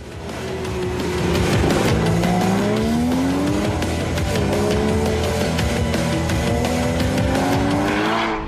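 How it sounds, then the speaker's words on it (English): Porsche Cayman GTS with sport exhaust at speed on a track, engine pitch climbing and dropping through gear changes, with tire squeal and skidding over a loud, continuous roar. "Standard on the new GTS is the Sport Chrono package, with stiffer mufflers and a sport exhaust for the throaty racing sound."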